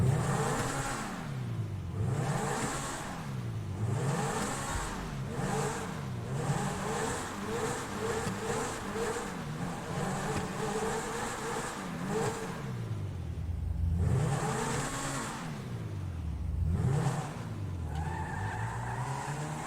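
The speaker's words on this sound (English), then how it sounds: "So I'm going to be quiet as we go into this tunnel and you can hear the exhaust." A supercar in Grand Theft Auto 5 revs its exhaust hard inside a tunnel, with repeated rising and falling engine sweeps, booming echoes and a few louder bursts. The engine runs loud and continuous with no talking.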